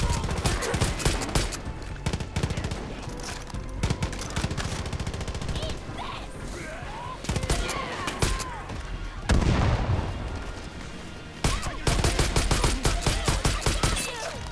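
Sustained gunfire from the game Far Cry New Dawn: rapid automatic bursts and overlapping shots crackle almost continuously, with a few heavier booms, loud and close, pausing briefly before resuming.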